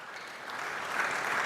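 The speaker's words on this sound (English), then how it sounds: "let's give a round of applause to our next speaker, Mr. Gordon Asian" Sustained applause from a conference audience welcoming the next speaker at a student conference, a dense steady wash of clapping that swells slightly toward the end, with no voices over it.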